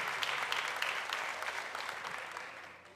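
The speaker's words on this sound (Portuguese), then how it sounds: "Você pode aplaudir ao Senhor Jesus." A church congregation applauds during a Portuguese-language service, a steady wash of hand clapping that slowly fades over a few seconds, fairly quiet and without talk.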